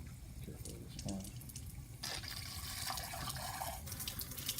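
Tap water runs steadily into a sink while acid is rinsed off small objects, a continuous splashing rush with brief clinks and handling noises, close and moderately quiet.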